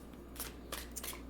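Tarot cards being shuffled, a few quick riffling bursts of card flicks, close and fairly faint over a low background hum.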